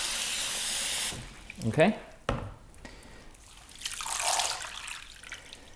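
Running water rinses freshly harvested sprouted seeds in a sink, a steady flow breaking off into splashing and drips, then gushing again briefly; a voice speaks once.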